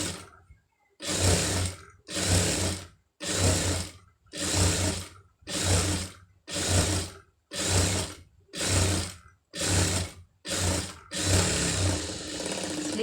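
Sewing machine stitching fabric for a blouse sleeve, heard in about a dozen loud, even bursts of a second or less separated by short pauses, running alone without talk.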